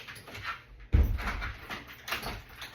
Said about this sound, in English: Sooty pushed the door open and Snoop jumped over the top of him